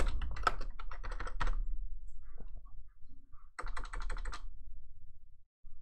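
Typing on a computer keyboard in two quick bursts of close, crisp key clicks separated by a quiet pause, with no one talking.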